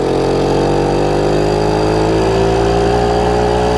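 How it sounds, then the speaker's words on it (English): A 1974 Kawasaki MT-1B minibike's small two-stroke engine runs steadily and loud, close by, holding a near-idle buzz with a faint rise in pitch toward the end and no talking. "you gotta love this little two-stroke"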